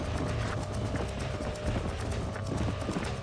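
Horse hooves clip-clopping in the video game Red Dead Redemption, a steady run of close, rhythmic hoofbeats over a continuous ambient bed, with no talking.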